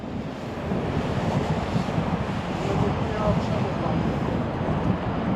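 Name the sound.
wind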